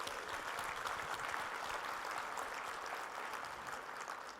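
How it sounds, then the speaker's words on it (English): An audience applauds at a community development services event, a continuous, fairly even wash of many hands clapping throughout with no talk over it. "let's give these guys a hand of applause."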